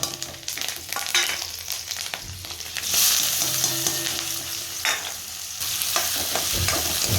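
Onion and potato frying in oil with green chili and curry leaves after fried peanuts, heard as a continuous close sizzle with stirring scrapes and pops throughout.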